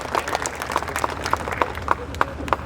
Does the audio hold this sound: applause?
yes